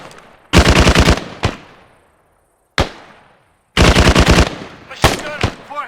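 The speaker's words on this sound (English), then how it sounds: "Machine gun, 400 meters southeast." Loud, close machine gun fire in the military video game Arma 3, coming in two long rapid bursts with single sharp shots between them and brief decaying echoes.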